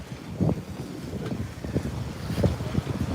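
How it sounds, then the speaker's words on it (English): Strong gusty wind buffets the microphone at Rockaway Beach as a severe thunderstorm downburst and gust front arrive, rising into rough surges of noise with no rain clearly standing out. "now the really strong winds are coming in"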